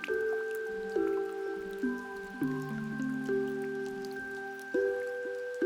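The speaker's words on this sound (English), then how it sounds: "You remembered the sound of falling rain as it hit your umbrella." In the video game Omori, rain falls onto an umbrella. Soft, ringing drips land at an uneven pace over a quiet, hushed background.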